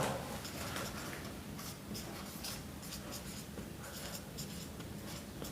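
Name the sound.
writing by hand while explaining a maths criterion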